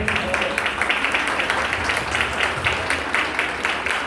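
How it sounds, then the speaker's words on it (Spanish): Audience applause for a guest at a music-industry talk, a steady even patter of many hands clapping at moderate loudness for about four seconds with no voices over it. "Bienvenida Carmen Mirabal, un aplauso para ella, por favor."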